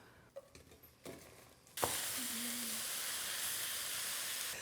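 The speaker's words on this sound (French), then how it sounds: "je vais y mettre d'abord mes oignons et mon poireau" Onions and leek drop into hot butter in a pot with a sudden loud burst of sizzling that then holds steady, after a few quieter clinks and handling sounds beforehand.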